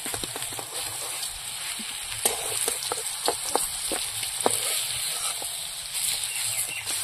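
Potatoes fry in hot oil in a pan with a continuous close sizzle, broken by irregular sharp crackles and pops throughout.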